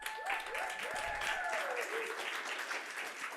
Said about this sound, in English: Let's give a round of applause to Michelle Nazaroff.